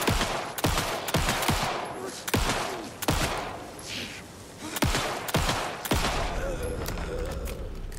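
Gunfire in Alan Wake 2, with repeated sharp shots landing in irregular bursts and separated by short pauses, loud and close. Ringing tails and thuds fill the gaps, and a voice talks faintly underneath.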